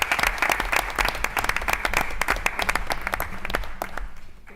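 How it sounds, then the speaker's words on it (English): Audience at a school board meeting applauds with dense, steady clapping that holds for several seconds, then tapers off slightly toward the end. "Round of applause, please."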